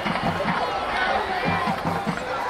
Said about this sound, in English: We suddenly have a tense mainland crowd